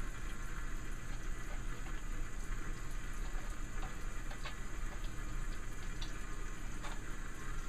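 Hands being washed under running water, a continuous steady hiss of flowing tap water at a low, even level, with a few faint splashes and no voices.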